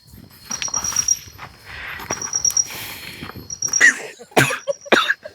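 A few sharp coughs burst out near the end, following a stretch of quieter rustling background noise.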